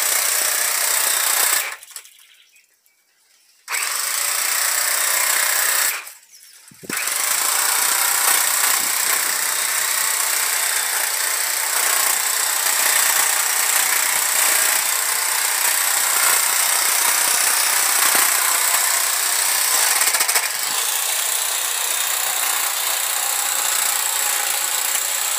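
A small garden machine cuts grass with a steady, buzzing motor drone that drops out twice near the start, then runs continuously and fairly loud with no talking.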